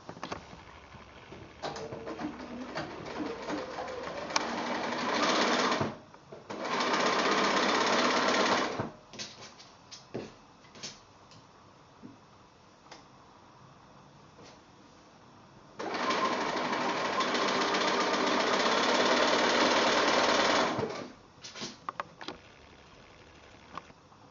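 Sewing machine stitching quilt block patches together, running in two sustained whirring bursts of several seconds each, separated by quieter stretches of fabric handling and small clicks.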